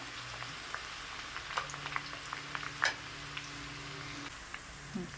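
Chopped onion frying in oil on the stove for homemade hair oil, a soft continuous sizzle and bubble with faint scattered pops and a low hum underneath.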